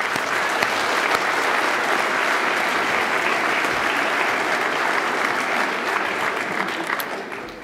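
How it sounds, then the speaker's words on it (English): Audience at a middle school fine arts festival applauding, a dense, sustained wash of clapping from many hands that holds steady for several seconds before easing slightly at the end. "well-earned round of applause"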